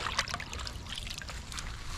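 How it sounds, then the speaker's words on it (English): Water sloshes around taro (dasheen) greens soaking in a container, a faint, close trickling and swishing with light splashes over a brief moment, and no voices. "we're going to slosh this around for a bit, and then we're going to let it soak"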